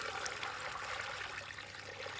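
Water poured out around a newly planted mulberry tree inside a soil berm, a steady close splashing and trickling that runs for a couple of seconds without any talking.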